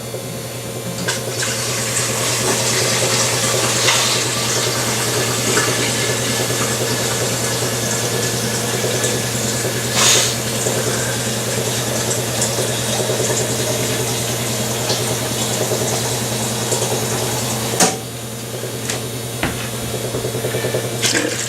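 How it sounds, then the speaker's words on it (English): Water runs steadily from a kitchen tap into a pot for cooking chili beans, a continuous close splashing rush that carries on alone with only brief shifts in flow. "I'm going to need a little more water, so I'll get some water here"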